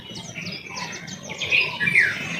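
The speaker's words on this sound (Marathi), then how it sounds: "आणि पक्ष्यांचा किलबिलाट चालूच आहे" Small birds chirp and twitter in a tree on a pleasant morning in rural Konkan, a run of quick, high, repeated calls that grows a little louder toward the end, close and clear with no speech.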